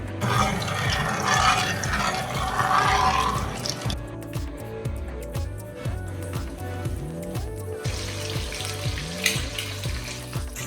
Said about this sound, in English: I'm frying the chicken